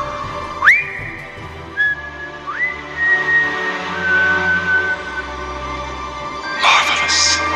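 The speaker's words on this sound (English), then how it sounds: "So Riker remembers this and starts whistling Pop Goes the Weasel." Someone whistles the tune Pop Goes the Weasel up close and clearly, in a few sustained, sliding notes with short pauses between phrases, ending in a brief burst of noise.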